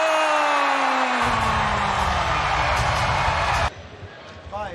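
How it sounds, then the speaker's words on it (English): Arena crowd roars, cheers and applauds after the final bell of a featherweight kickboxing world title fight, a loud continuous wall of noise under a commentator's voice that cuts off abruptly near the end. "This crowd erupts with applause"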